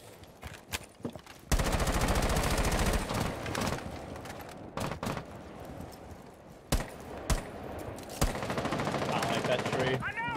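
Rapid automatic gunfire from a multiplayer shooter match, with a long sustained burst followed by shorter volleys and single shots, loud and close, with talk from players in between.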